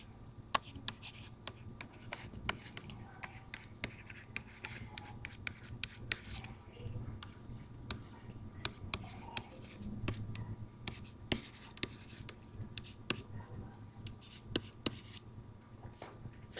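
Pen or pencil scratching across paper while an algebra equation is written out by hand, a steady run of close, soft strokes and taps over about sixteen seconds with no talk.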